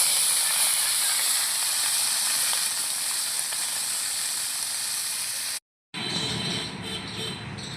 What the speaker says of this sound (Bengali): এই ভাজা জিরের ওপরেই আমি দিয়ে দেবো মাছগুলো।